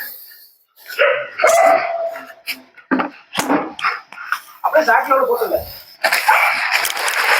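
A dog barks in repeated sharp bursts at close range, irregular and loud, interleaved with people talking excitedly in Tamil around a house during a snake rescue.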